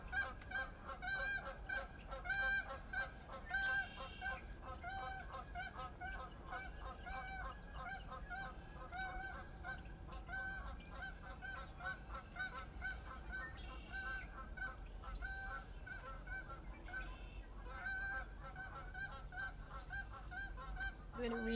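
A flock of geese honks continuously at moderate distance, calls overlapping in a busy, repetitive chorus that swells and recedes as the birds circle around.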